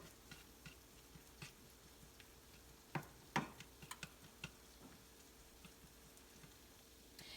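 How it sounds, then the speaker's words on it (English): Quiet pan cooking of a cauliflower rice mixture with red pepper on medium-high heat: soft sizzle with scattered stirring clicks and a few sharper scrapes, no talking. "start turning this on a medium-high heat to everything is cooked all the way through"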